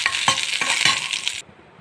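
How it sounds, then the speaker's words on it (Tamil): Green chillies, garlic and ginger sauté in hot oil with mustard seeds and urad dal, a steady close sizzle broken by sharp scraping strokes of a spoon against the pan before it cuts off abruptly. "எண்ணெய் காய்ந்ததும் பச்சை மிளகாய், பூண்டு, இஞ்சி போட்டு வதக்கணும்"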